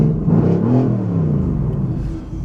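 A Mercedes GT-R Stage 2 engine revs loudly and steadily, a deep rumbling roar rising and holding close by with no talking.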